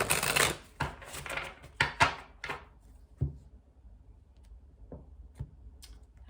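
Tarot cards being shuffled close up, a flurry of riffling snaps at the start followed by a few scattered soft taps and flicks in a quiet room.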